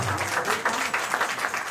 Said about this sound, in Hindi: मेरी पार्टी वाले आपके लिए ताली बजाते हैं।